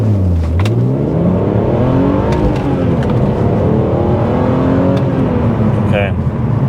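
A BMW E46 330ci with headers accelerates hard on new tires that lose traction, its engine note rising and falling in loud, close sweeps with a voice briefly over it.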